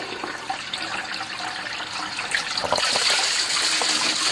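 A 3,700 gallon bilge pump runs at a creek prospecting site, pushing out a steady rushing, gushing flow of water that grows slightly louder and stronger partway through, with no voices.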